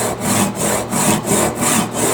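A Japanese Suizan Ryoba 7-inch double-edge pull saw cutting wood without a vise, with loud close rasping strokes in an even back-and-forth rhythm, about six pulls in two seconds.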